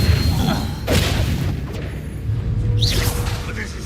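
An Incendio fire spell is cast in Hogwarts Legacy, a loud booming whoosh of flame with crashing impacts and swelling blasts over rumbling combat noise.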